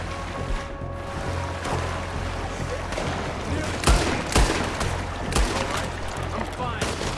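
Gunfire during a river canoe fight in Red Dead Redemption 2, several sharp shots cracking over constant water and paddling noise, while players talk over the action.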